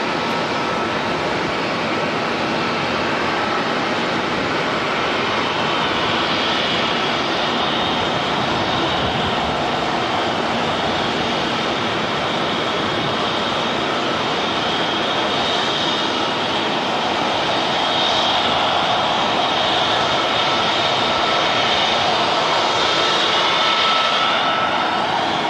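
An airliner on the Queenstown flight departs Auckland Airport, its engines producing a loud, steady roar that holds for the whole stretch and swells slightly toward the end.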